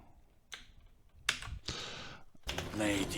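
A few separate computer keyboard presses, a Control and Delete shortcut in the Anki flashcard app, sound as sharp close clicks with brief rustles between them in a quiet room.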